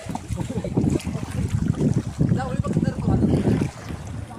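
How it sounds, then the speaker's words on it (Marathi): A boat passes on the open sea off Khavane beach, its hum and water wash lying under gusty wind buffeting the microphone while people talk nearby. "चला ही बोट आमच्या पुढेच गेली."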